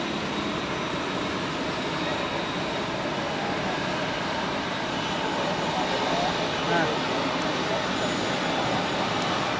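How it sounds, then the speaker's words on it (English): An airliner on short final for runway 14 at Zurich Airport, heard as a steady, loud broadband jet roar that holds throughout with little change, with a voice talking faintly underneath. "one more airplane on short final for runway 14"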